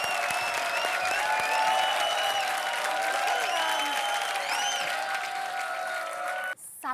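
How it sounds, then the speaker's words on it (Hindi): Loud, sustained applause from a large crowd fills the clip, steady throughout before cutting off sharply near the end. "जोरदार ताली।"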